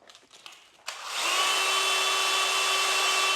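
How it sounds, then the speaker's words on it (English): Someone sands down an EVA foam grip on a custom fishing rod: a few soft rubbing scrapes, then a steady, loud power-tool whine that holds on unbroken to the end. "For the time being, I have a whole lot of these grips. So until I run out of them, I'm gonna keep sanding this down."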